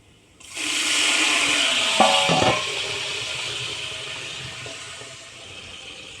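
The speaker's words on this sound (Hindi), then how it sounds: "थोड़ा सा पानी डालेंगे तकरीबन हाफ़ कप के करीब" A sudden loud hiss and sizzle as about half a cup of water hits a hot pan of frying onions for mutton pulao, with brief clatter, then the sizzling gradually settling down.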